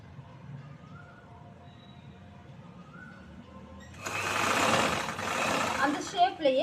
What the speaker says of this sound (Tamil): 1/4 இன்ச் தள்ளி ஒரு தையல் போட்டுக்கிறோம்.